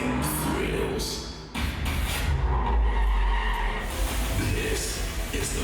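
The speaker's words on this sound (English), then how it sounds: "This is the most powerful BMW M5 ever." A 2024 BMW M5 skids hard at a driving event, a loud rush of tire scrub and engine roar that surges and fades within a dense, busy mix.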